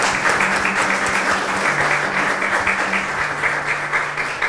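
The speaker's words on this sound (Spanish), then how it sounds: "vamos a darles un aplauso por este servicio al Señor para gloria de Dios." A congregation in a church at Mass applauds steadily in a dense, even wash of clapping that lasts throughout.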